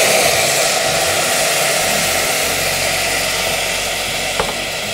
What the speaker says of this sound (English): So after a minute or so, we're going to deglaze with our red wine.